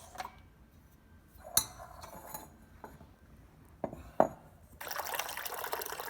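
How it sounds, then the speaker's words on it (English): Water poured into a Keurig coffee maker's reservoir, with a few faint clinks and taps before a steady splashing fill starts near the end, close and fairly quiet. "Get whatever amount of water you want to put in it."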